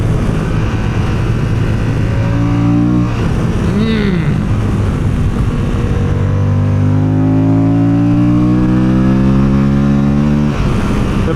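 A 2027 Moto Guzzi Stelvio motorcycle engine revs loud and close through rising gear pulls, with a brief dip and shift before a long climbing acceleration, heavy wind noise throughout.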